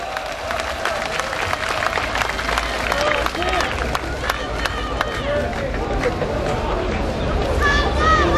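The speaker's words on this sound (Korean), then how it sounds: "힘찬 박수 부탁드리겠습니다" Rally crowd at a candlelight protest applauds a party floor leader as he is introduced, a steady roar of clapping and cheering with a loud announcer's voice carrying over it throughout.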